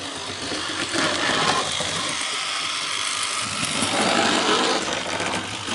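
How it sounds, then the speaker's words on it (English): A little model railway engine runs round its track with a steady, busy mechanical whir and faint clicking, fairly close and continuous, with no voices. "watch this little engine run round and round and round"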